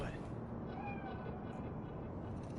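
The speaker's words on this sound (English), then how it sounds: "That cat? Fine-looking feline." A cat in the video game Cyberpunk gives a faint, short meow or two over a steady ambient background.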